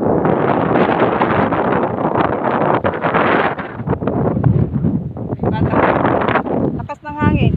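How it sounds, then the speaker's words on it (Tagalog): Strong wind buffets a microphone outdoors, a loud continuous broadband roar with gusty swells throughout, while a person talks over it. "Lakas ng hangin."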